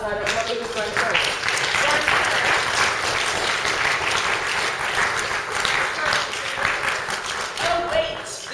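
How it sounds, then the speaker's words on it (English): A lecture audience applauds the lecturers with sustained, dense clapping that fills the room, steady throughout with some voices mixed in. "you should give our lecturers a round of applause"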